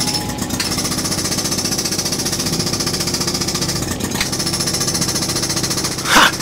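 A loud, steady jackhammer pounds continuously in a uranium mine with rapid mechanical hammering and engine rumble, close and unbroken, with a brief clank near the end.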